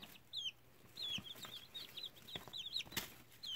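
A Frizzle hen with curly feathers clucks in a small backyard flock, giving soft, irregular clucks and chirps near and far over light background noise.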